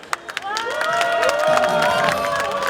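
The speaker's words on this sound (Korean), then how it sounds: "큰 박수로 맞이해 주시기 바랍니다." Applause and cheering from an audience welcoming a Democratic Party lawmaker to a lecture stage in Daegu, a few sharp claps opening into steady clapping with whistled and shouted cheers layered over it.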